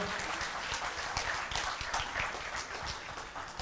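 An audience at the Uganda–UAE business forum gives a steady round of applause for a head of delegation, a dense, even wash of many hands clapping that holds throughout without voices.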